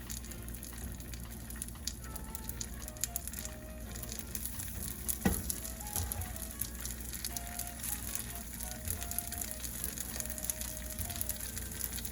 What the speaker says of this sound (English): I'm gonna add these nuggets, probably more than one at a time. Now there's the sizzle.